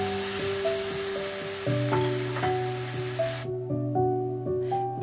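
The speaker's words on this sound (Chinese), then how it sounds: "然后再倒进去较高笋， 稍微翻炒一下它" Bamboo shoots, sweet pepper, cucumber and mushrooms are stir-fried, giving a soft sizzle that runs under looping background music, then stops partway while the music carries on.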